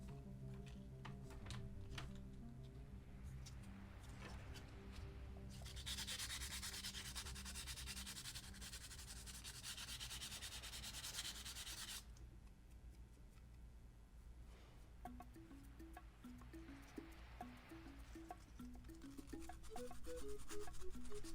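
A Wii motherboard being sanded by hand with 220 grit sandpaper, with close, continuous scratchy rubbing strokes that grow louder and denser in the middle, under a faint steady hum and no talk.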